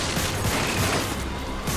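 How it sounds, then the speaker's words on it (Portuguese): Dense, continuous gunfire from the video game Lost Planet 3, a steady roar of rapid shots with crashing impacts filling the whole moment, loud and close with no voices over it. "Uma sequência de dois tiros deita eles."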